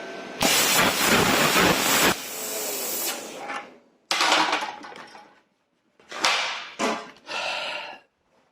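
A plasma cutter slices through metal for a heat shield in a Saab turbo–powered UAZ 452 build, loud hissing bursts of arc and air that start and stop in several uneven cuts with short gaps between.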